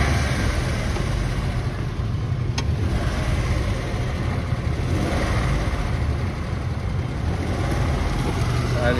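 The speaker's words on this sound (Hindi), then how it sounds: "फिर दोबारा चेक कर देते हैं स्टार्ट करके" A Maruti WagonR with a company-fitted CNG kit, just repaired, runs at a steady idle after being started. The engine hum is continuous and close through the whole stretch, with a brief click near the start.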